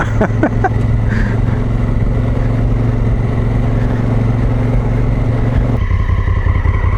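A Honda Africa Twin motorcycle accelerates along a forest track, its engine droning loud and steady close by, with a shift in pitch near the end and some clattering from the rough ground.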